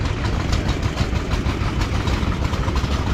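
An International stationary engine chugs steadily nearby, driving the conveyor belt of a corn sheller with a dense, rhythmic mechanical rumble and clatter at an outdoor farm show.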